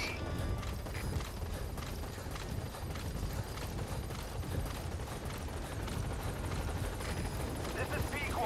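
In the Metal Gear Solid V video game, a helicopter approaches a landing zone, its rotor chop a steady rapid thudding under rumbling mechanical noise, continuous and fairly loud throughout.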